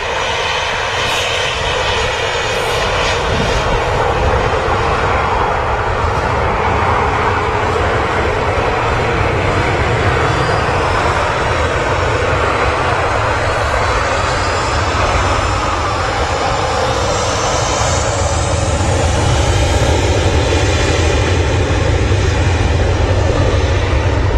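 A Ryanair jet on runway 23 left at Manchester Airport produces a loud, unbroken engine roar for the whole stretch, its pitch shifting slowly as the aircraft moves along the runway nearby.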